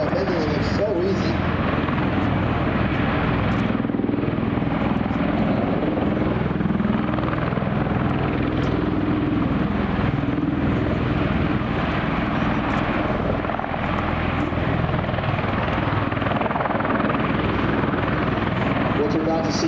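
An MV-22 Osprey tiltrotor at an air show roars continuously overhead, a loud, sustained rotor and engine drone with a pulsing beat, while an announcer talks over it.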